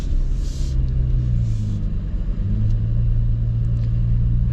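A 2024 Ford Raptor pickup with the 37-inch tire package pulls away, its engine a low, steady rumble that rises slightly as the truck gets underway, heard from inside the cab.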